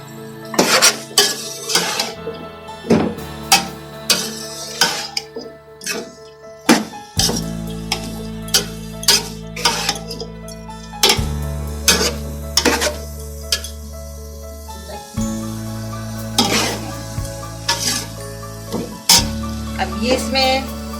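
Metal utensil scraping and clanking in a pan as capsicum is stirred into vegetable fried rice, with steady rhythmic clinks and a low sizzling hum, close and fairly loud.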